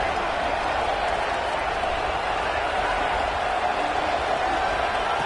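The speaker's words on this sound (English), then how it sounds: "this crowd coming to life here trying to help the defense get a stop" Football stadium crowd noise at an NC State vs Utah playoff game, a steady loud roar of fans cheering to rally the defense, continuous and broad for several seconds with a commentator talking over it.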